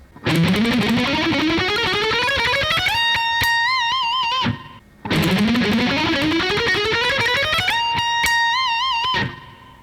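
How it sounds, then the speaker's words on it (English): Two fast runs of alternate-picked electric guitar notes in a Phrygian rock and metal lead style, climbing steadily upward, each ending on a sustained vibrato note before a short pause. "what I do here is like a fast alternate picking idea"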